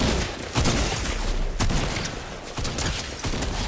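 Loud, rapid gunfire from the video game Fortnite, with repeated sharp shot bursts cracking over a busy rumbling background and no talking.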